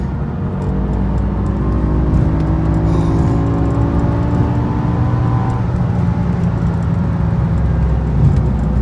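A stock BMW E60 M5 pulls hard on a San Diego freeway after a downshift, its engine a steady, loud drone with rising harmonic sweeps from inside the cabin, no talking over it.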